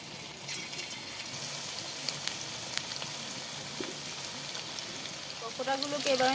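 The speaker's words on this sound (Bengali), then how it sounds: "এবার আমি তেল দিয়ে চিকেন পকোড়াগুলো ভেজে নেব।" Marinated chicken pakoras frying in hot oil in a kadai, a soft continuous sizzle and crackle at moderate distance, with faint clinks and some low background sounds near the end.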